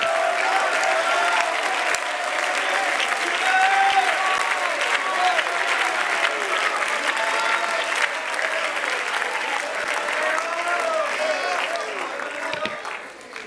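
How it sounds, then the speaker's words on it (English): A church congregation claps hands and cheers in worship during a service, a dense continuous wash of applause with crowd voices mixed in, loud and steady throughout. "people, clap your hands again and just worship the Lord"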